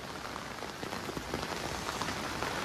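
Heavy cyclone rain pours down steadily and loudly, a dense unbroken hiss of drops beating on surfaces, with rushing floodwater blended into the roar and no voices.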